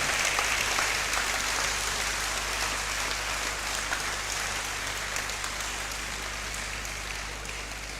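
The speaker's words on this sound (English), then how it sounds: "Our distinguished professor deserves another round of applause," Sustained applause from a lecture audience after a professor's inaugural lecture, a dense, even clapping that carries steadily throughout and fades slightly toward the end.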